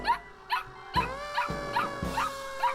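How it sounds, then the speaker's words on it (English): A puppy barks in a cartoon fire-safety story, giving a run of high, bright yips and short barks about every half second, close and clear with no talking. "He ran down the street to the fire station, barking all the way."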